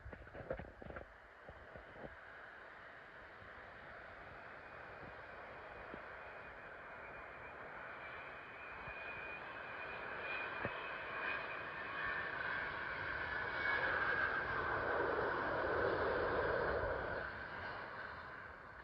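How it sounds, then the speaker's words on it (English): A Virgin Atlantic Airbus A330 from Boston landing at Heathrow starts as a faint distant hum and swells steadily into a louder engine whine and rumble that peaks near the end. "Coming in now is a Virgin Atlantic Airbus A330 from Boston,"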